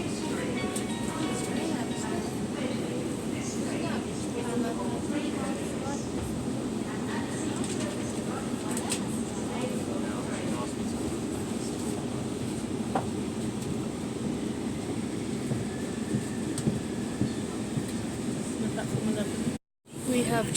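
Heathrow Express train starting to move, a continuous low rumble and rolling drone inside the carriage with faint rattles throughout, steady and moderate in level.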